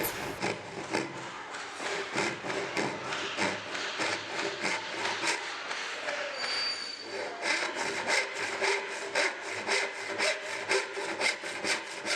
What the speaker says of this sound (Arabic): وبعد كده هبدا انشر الخطوط